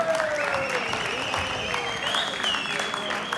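An audience at an amateur boxing bout applauds and cheers, with a crowd roar and sustained vocal tones over a steady bed of clapping.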